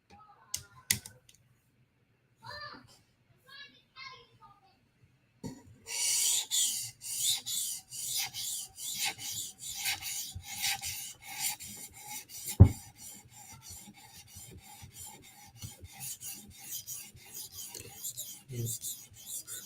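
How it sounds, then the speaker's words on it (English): A knife blade scrapes steadily across a 400 grit sharpening stone, producing continuous rhythmic rasping strokes up close, with a few quieter scrapes and taps at the start and one sharp knock partway through. "So now we're going to jump up stones to 400 grit."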